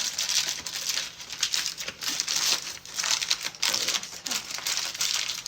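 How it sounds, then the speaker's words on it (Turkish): Parchment paper is crinkled and pressed around the edges of a cooking dish, producing close, repeated bursts of dry rustling and crackling with no speech. "Sıkıştırabildiğiniz kadar böyle sıkıştırın kenarları kapatın yağlı kağıtla."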